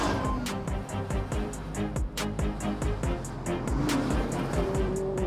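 Classic Audi Quattro rally-bred car driven hard on a fast lap, its engine loud and continuous with repeated gear shifts and revving surges, heard close from on board.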